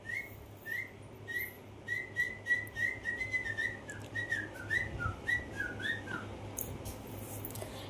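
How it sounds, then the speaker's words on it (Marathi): A series of short, high finger whistle bursts, made with fingers in the mouth, in a quick, uneven rhythm, sharp and fairly close, over a low steady hum. "ती शिट्टी बाजून दाखवतोय तोंडात बोट घालून आहे का"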